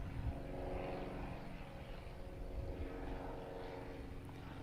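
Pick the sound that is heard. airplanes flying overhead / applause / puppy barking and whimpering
airplanes flying overhead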